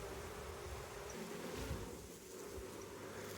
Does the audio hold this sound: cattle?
no